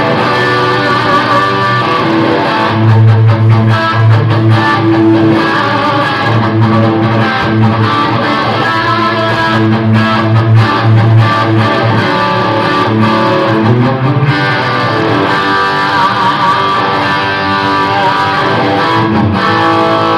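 An electric guitar playing loud, sustained distorted lead lines through the lead channel of a Marshall Mini Jubilee amp, a thick saturated tone running continuously with no talking.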